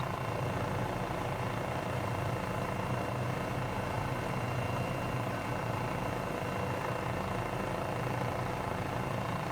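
A helicopter in Microsoft Flight Simulator flies near airport buildings in Antarctica, giving a dense, steady rotor and engine drone that stays loud and unbroken throughout with no talking.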